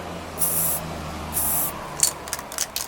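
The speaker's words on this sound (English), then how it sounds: "hold the can about 12 inches from the miniature and give some nice even spray painting on it" Aerosol spray can hissing gray primer onto a tabletop miniature, two short bursts about a second apart, close and loud, followed by light rubbing and clicking handling sounds.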